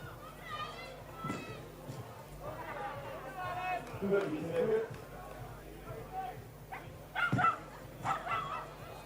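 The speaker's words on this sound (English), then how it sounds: "Dog wanting to get involved there as well." A dog barks in short yips amid an outdoor event, with a commentator talking and children's voices around it; the barks are brief and partly masked by speech.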